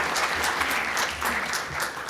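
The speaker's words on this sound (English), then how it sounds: "let's give her a round of applause again for her very nice presentation" Audience applause after a conference presentation at a network security track, a steady patter of many hands clapping at moderate level, with no talk over it.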